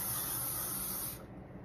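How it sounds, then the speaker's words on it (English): Hairspray sprayed onto hair for soft waves: one continuous close hiss from the can that cuts off after about a second. "And we should totally use hairspray."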